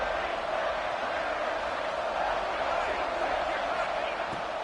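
Steady roar of a stadium crowd in a college football video game at the start of the fourth quarter, a dense unbroken wash of noise heard under commentary throughout.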